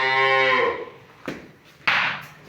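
A calf gives one loud, close moo with a harmonic rise and fall that fades out. Two short, sharp bursts of noise follow, which may be breaths or snorts from the calf.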